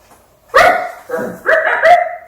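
A dog barks three times up close, loud, sharp woofs with short pauses, the last two coming in quick succession.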